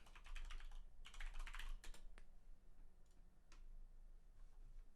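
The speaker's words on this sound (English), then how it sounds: "I'm just typing it like this." Typing on a computer keyboard, quick clusters of close key taps in the first two seconds, then a few sparse isolated clicks against a quiet room.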